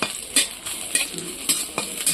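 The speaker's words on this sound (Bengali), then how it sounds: "কড়াইতে তেল দিয়ে দিয়েছি এর জন্য দেখো পেঁয়াজ দিয়ে দিলাম এখন পেঁয়াজটা একটু ভাজা ভাজা হবে" Onion frying in oil in a wok, a continuous hiss broken by regular metal scrapes of a spatula stirring, close and fairly loud with no talk.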